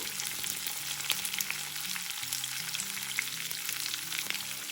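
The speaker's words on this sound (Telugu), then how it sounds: "దీనిలో ఇప్పుడు కరివేపాకు వేసుకుందాం." Curry leaves crackle and sizzle in hot oil with sliced onions and green chillies for a boiled potato fry, a dense, even hiss up close with a faint stir, no voices.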